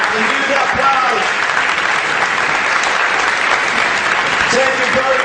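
Lecture audience applauding continuously and loudly, dense steady clapping from a large crowd filling the room throughout, with scattered voices mixed in.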